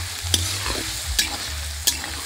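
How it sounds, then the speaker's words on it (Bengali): Ginger and green chilli frying in a pan: a steady low sizzle runs throughout, punctuated by three sharp spatula scrapes or taps, no voices. "আদা আর কাঁচা লঙ্কা এখন ভালো করে ভেজে নেব"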